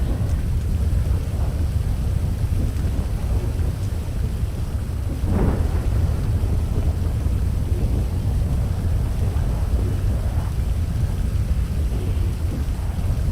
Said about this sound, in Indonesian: Sumpah hujannya keras banget, cuy.